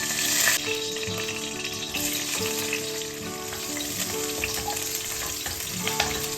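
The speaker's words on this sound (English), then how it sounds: "In a pan, heat some oil and fry curry leaves and garlic." Steady sizzle of curry leaves and garlic frying in hot oil in a pan, a dense crackling hiss with a few clinks of a utensil, fairly quiet and close, no talking.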